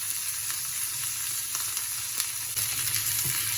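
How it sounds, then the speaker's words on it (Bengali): Potato chunks fry in hot oil in a pan for fish bharta, giving a continuous bright sizzle with a few soft crackles and no voices over it. "তার সঙ্গে দিয়ে দিচ্ছি চাকলা চাকলা আলু।"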